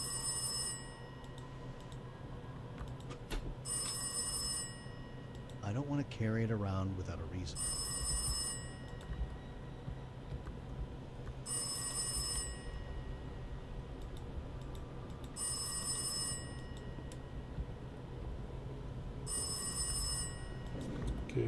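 An old telephone in the Last Days of Lazarus video game rings in repeated bursts at steady intervals, loud and bright over a droning ambient backdrop, with someone talking over it.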